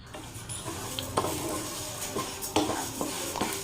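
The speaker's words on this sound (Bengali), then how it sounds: "ডালটা একটুখানি ভেজে নিচ্ছি" Moong dal dry-roasting in a pan, the lentils giving a steady grainy rustle and patter with sharper scrapes and clinks as they are stirred, close and moderately loud with no talk.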